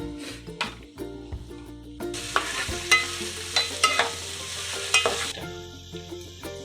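Onion and chilli cooking in a pan for crispy soyabean chilli, with a close, continuous sizzle and a series of sharp spoon knocks and scrapes as the pieces are stirred.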